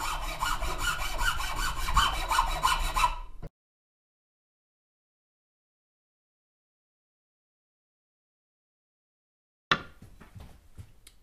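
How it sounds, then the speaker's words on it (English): A finer file rasps back and forth over a wooden guitar neck in quick, even strokes, close and crisp, then stops into silence before a few brief scraping touches resume. "I'm going to start using a finer file just to start taking some of the rasp marks out"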